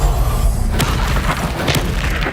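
A Confringo fire spell blast in the game Hogwarts Legacy, heard as a deep, loud boom that fills the whole moment, with a few sharper impacts rolling through behind it.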